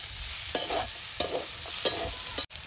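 Potato, eggplant and peas being stirred in a frying pan, with three or four distinct scraping strokes of a spatula over a steady soft sizzle; no talking.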